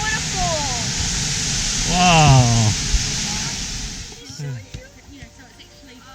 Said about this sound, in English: Rainbow Waterfall is a single drop waterfall located on Kerikeri River near the town of Kerikeri, Bay of Islands, New Zealand